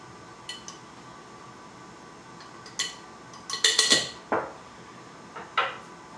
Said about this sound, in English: Pastry blender is the easiest way to do it.